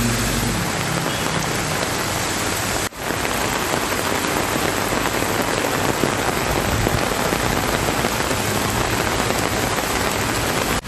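Heavy night rain pours down in Tamil Nadu, a dense, loud, continuous hiss of drops hitting surfaces, steady and unbroken with no voices.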